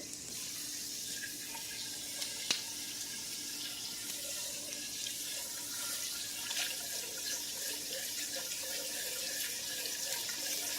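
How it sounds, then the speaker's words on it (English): Steady running tap water splashing into a pot in a sink, a continuous broad hiss with a couple of small clanks, no talking. "We're going to put some water in these now."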